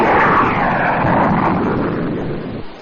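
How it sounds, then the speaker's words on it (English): F-100 Super Sabre jet aircraft flying by, a loud, broad roar of jet engine noise that holds steady and then gradually recedes. "the F-100 Super Sabre"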